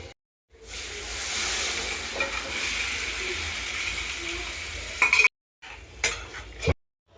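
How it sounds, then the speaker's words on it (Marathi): Chickpeas drop into a pan of sizzling, oily homemade masala for chole, giving a steady loud frying hiss with scraping stirs, broken by a couple of brief silent cuts near the end. "ह्या मसाल्याला छान तेल सुटलेलं आहे आपण आता छोले टाकून घेऊया"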